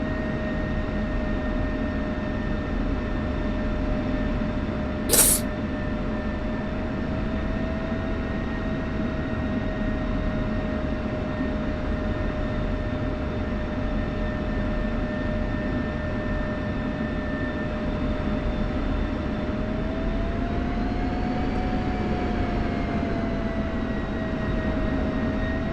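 An F-16 jet taxiing in the DCS World flight simulator gives a steady, fairly loud engine whine with sustained tones that rise and bend near the end, plus one sharp click early on.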